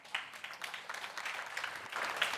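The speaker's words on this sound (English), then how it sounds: "I think we should give all of the fair usage people a round of applause" Light scattered clapping from an audience, a brief round of applause that stays fairly soft and steady without any speech.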